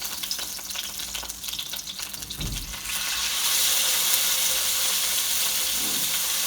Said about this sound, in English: You hear that nice sizzle we have going?